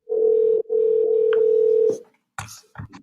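A telephone gives out a steady, loud electronic tone for an incoming call, with a brief gap in the middle. Handling clicks and shuffling follow once the tone stops.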